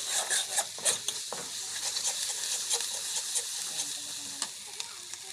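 Ginger paste, garlic and ground cinnamon-cardamom spice paste stirred and sautéed in hot oil for a Bengali pickle-style dal, a steady close sizzle broken by scraping spoon strokes, with no one talking.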